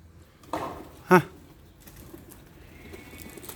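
Istanbul butterfly pigeons in a coop give a short coo, with a brief flutter and scattered soft bird sounds close by; people talk nearby.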